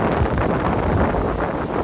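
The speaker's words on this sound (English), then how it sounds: "are shaking so much from the wind" Strong wind rushes through shaking trees in freezing Germany, a dense, continuous roar buffeting the microphone up close with no break and no voices.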